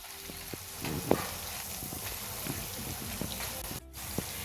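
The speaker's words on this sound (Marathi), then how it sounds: "आता मी गॅस थोडासा मीडियम केलाय आणि आता मीडियम गॅसवर ह्या तळतीये" Cheese shankarpali fry in hot oil over a medium gas flame, giving a close, steady crackling sizzle dotted with sharp pops and bubbling bursts, with no voices.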